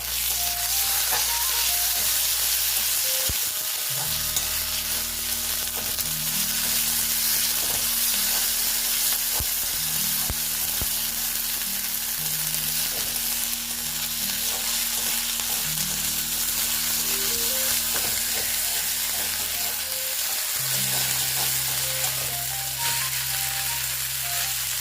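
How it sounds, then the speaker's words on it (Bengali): A cauliflower and potato mixture sautéing in a pan for cauliflower paratha filling, with a steady loud sizzle and frying hiss throughout, plus occasional stirring, with no talking. "এটাকে এবার একটু সটে করে নিয়ে তারপর আমরা আলু আর কপির যে মিশ্রণটা করে রেখে দিয়েছি"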